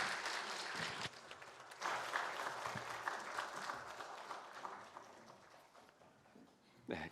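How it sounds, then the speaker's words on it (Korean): A church congregation applauding during a Sunday service, a soft but sustained round of clapping from a crowd that thins out toward the end. "우리 다시 한번 큰 박수로 격려해 주시기 바랍니다"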